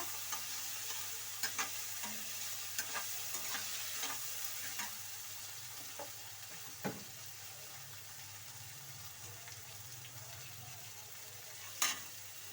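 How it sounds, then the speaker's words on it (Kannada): Cut brinjal frying in a pan, with a faint, steady sizzle and scattered soft clinks and stirring taps, one sharper knock near the end. "ಬದನೆಕಾಯಿನೂ ಹಾಕೊಳ್ಳಿ ಹಾಕಿ ಒಂದ್ಸಲ ಫ್ರೈ ಮಾಡಿ"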